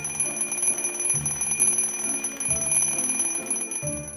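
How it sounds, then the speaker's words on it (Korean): An IKEA DEKAD desk alarm clock rings loudly and close, a steady rapid metallic bell clatter running continuously with a rhythmic pulsing beat. "이 시계는 무소음에 알람 기능이 있는 시계고요."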